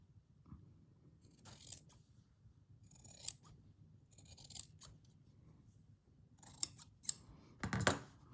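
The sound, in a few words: scissors trimming linen tea towel fabric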